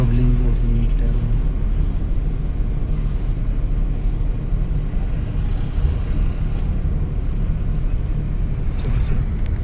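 A learner driver's car engine drones loudly and steadily as it accelerates, a heavy continuous rumble filling the clip close to the listener, with no talk.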